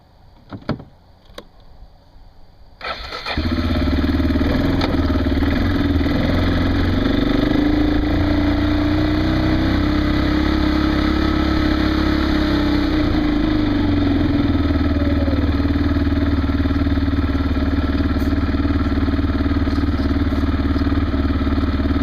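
A motorcycle engine starts after a few faint clicks and knocks, then settles into a loud, steady running drone that holds unbroken for the rest of the clip.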